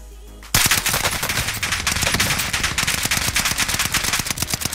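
Rapid automatic gunfire in a first-person shooter, loud bursts starting abruptly after a quiet moment and continuing in a fast, steady rattle of many shots with no talk over it.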